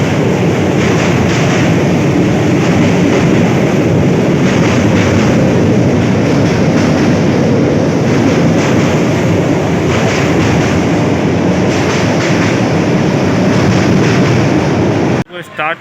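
Howrah–Saharsa–New Delhi Humsafar Express crossing Bachwara station, a loud steady rumble and clatter of the passing train running continuously, ending abruptly near the close.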